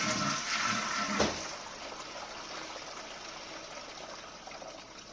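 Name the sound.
water dripping from toilet cistern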